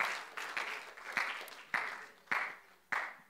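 A church congregation applauds to encourage a group called up front during a Sunday celebration service, a broad wash of clapping that swells in several repeated bursts across the room.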